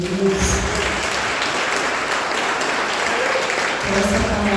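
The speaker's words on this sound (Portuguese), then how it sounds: "Vamos dar uma salva de palmas ao Senhor Jesus." A church congregation claps together in steady, dense applause that fills the room throughout, with faint voices and a bit of music underneath.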